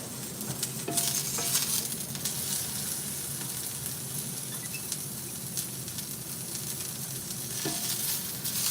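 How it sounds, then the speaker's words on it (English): A fatty piece of steak sizzles in a hot cast iron pan, a steady close crackling hiss with small pops and an occasional scrape, with no talking. "I'm just gonna test it out with like a fatty piece of steak just to check the sizzle."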